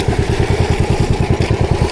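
A small motorboat engine chugs steadily nearby, a loud rhythmic low putter with evenly spaced pulses.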